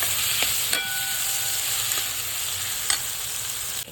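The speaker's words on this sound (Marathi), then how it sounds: "त्याच्यामध्ये आपण आता शेंगा टाकून देऊया सगळं आपल्याला मसाल्यामध्ये मिक्स करून घ्यायचं" Val bean pods frying and being stirred into a masala, giving a steady close sizzle with a few sharp scrapes of a spoon against the pan, with no voices.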